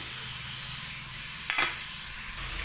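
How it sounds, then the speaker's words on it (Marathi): Grated beetroot frying in two spoons of melted ghee in a kadhai, a soft continuous close sizzle with a short stirring clatter midway. "आपलं तूप छान वितळल्यानंतर जो आपण खीस करून घेतला आहे तोही घालायचा आहे."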